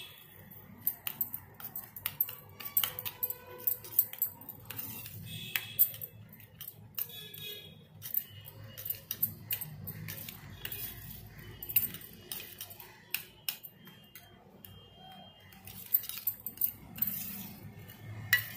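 A tomato-juice face scrub is mixed in a bowl, giving light, irregular clicks and scrapes of a utensil against the bowl. The sound runs on throughout at a moderate, close level, with no talking.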